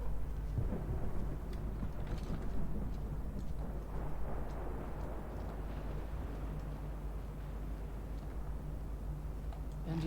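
Low rumbling thunder from a World of Warcraft Legion Remix stormy outdoor scene rolls on steadily for the whole stretch, a dense, continuous growl with faint crackles and rain-like hiss on top and no speech.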